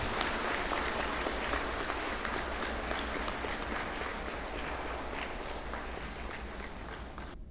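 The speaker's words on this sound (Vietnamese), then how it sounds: "Quý vị cho một tràng pháo tay thật lớn," Long, loud applause from an audience at a Buddhist ceremony, dense sustained clapping filling the whole stretch and fading only at the very end, with no speech over it.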